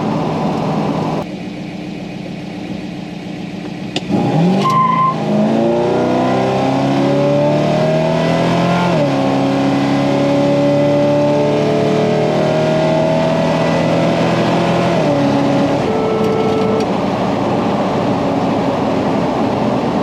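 A car engine starts up and runs steadily at a loud, close idle, its droning tone rising slightly and holding before dropping back.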